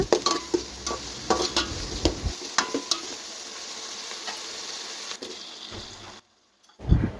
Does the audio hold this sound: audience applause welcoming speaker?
no